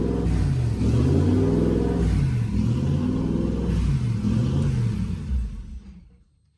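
A Ford Focus project car fitted with a twin-turbo V8 runs steadily at close range, its deep, lumpy engine rumble wavering unevenly like a rough idle before fading away at the end.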